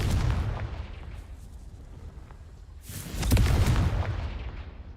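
A Confringo fire spell from Hogwarts Legacy erupts in two heavy booming blasts, the second louder and longer, with rumbling low-end roar and crackling debris tails, no speech.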